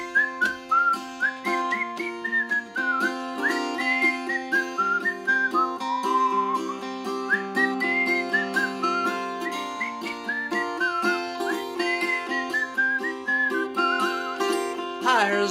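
A man whistles a lilting tune solo, clear and close, with pitch gliding between sustained notes in a steady melodic rhythm and no talking.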